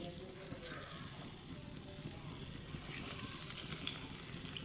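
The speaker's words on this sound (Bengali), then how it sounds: "একদম লো ফ্লেমে ভাজতে হবে না হলে ভিতরটা কাঁচা থেকে যাবে" Balls made from ripe mango fry in oil over a low flame, giving a soft, continuous sizzle and bubbling that stays faint and steady throughout.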